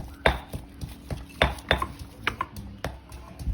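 Knife chopping and slicing ingredients for a Lao Vieng community dish in rural Thailand, a series of sharp, close taps in an uneven rhythm, about a dozen strikes over a few seconds.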